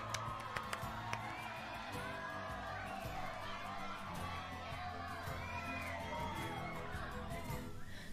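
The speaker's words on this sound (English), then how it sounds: "Let me give you a round of applause for joining." A lively crowd cheers and shouts with whoops and children's yells, a dense continuous roar of voices that stays loud throughout.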